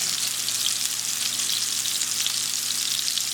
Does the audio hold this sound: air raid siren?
no